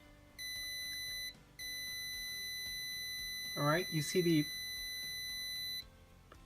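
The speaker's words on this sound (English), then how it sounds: "the buzzer will sound as soon as my hand is with less than 2 inches from the sensor" An Arduino ultrasonic sensor alarm's buzzer emits a steady, high electronic tone, breaks off briefly, then sounds continuously for several seconds at moderate level while someone talks over part of it.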